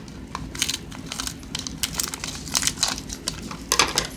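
Japanese candy packaging cut open up close, giving crisp crinkling and crackling plastic sounds in quick irregular bursts, fairly loud, with no voices.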